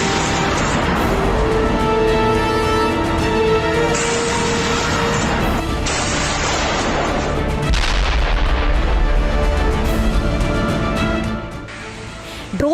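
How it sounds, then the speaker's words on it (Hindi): Heavy North Korean artillery booms repeatedly in the Russia-Ukraine war, loud and close, each blast rolling into a long rumbling echo over a continuous roar, easing slightly near the end. "नॉर्थ कोरिया की तोपें गरज रही हैं"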